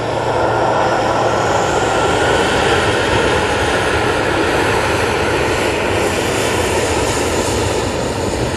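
An airliner departing Manchester Airport for Dublin produces a loud, sustained jet engine roar that stays strong and steady throughout, with no voices over it.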